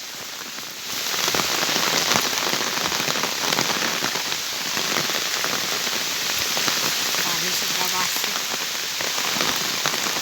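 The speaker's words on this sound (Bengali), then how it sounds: "বৃষ্টি এখন বাড়তেছে, আস্তে আস্তে বৃষ্টি বাড়তেছে।" Heavy rain pours steadily onto a village road, a dense, loud hiss of drops that swells after the first second and stays constant throughout, with no talk.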